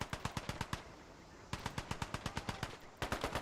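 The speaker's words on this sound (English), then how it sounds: "There's that heavy machine gun." A heavy machine gun fires in quick rhythmic bursts of about a dozen rounds each, with short pauses between bursts, in the Gates of Hell Vietnam War strategy game. The shots are fairly faint and come with no talking.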